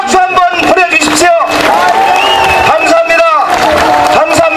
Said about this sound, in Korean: 다시 한번 우리 한명숙 대표님께 고맙다는 박수 한번 보내주십시오.